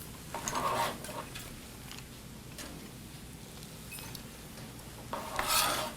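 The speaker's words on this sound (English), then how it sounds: "So I'm going to go ahead and add in our onions." Chopped onions hit meat already browning in a pan, with two short bursts of scraping and stirring over a faint, steady low sizzle.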